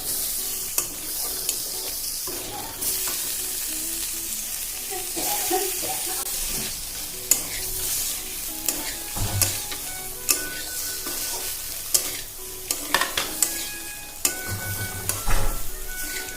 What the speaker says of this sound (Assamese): মই আলুখিনিও এতিয়া একেলগে ভাজি ল'ম